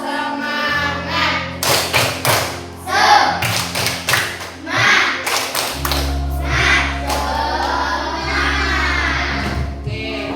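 Schoolchildren in a combined-grade classroom doing a rhythmic 'tepuk semangat' cheer clap, loud patterned bursts of hand claps and thumps mixed with children's voices chanting along.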